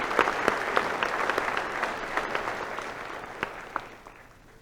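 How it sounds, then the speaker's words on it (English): A commencement crowd at Allegany College of Maryland applauds honors graduates, with steady dense clapping and scattered louder individual claps, tapering off toward the end. "Let's give those folks a round of applause."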